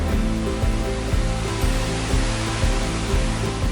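A big waterfall rushes in a steady, dense roar of falling water, loud and continuous with no pauses, and no voices over it.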